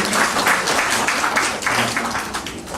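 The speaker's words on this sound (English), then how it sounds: "let's give a round of applause to Ade." Audience applauding during an interactive talk session, a dense steady wash of clapping with faint voices mixed in, moderately loud throughout.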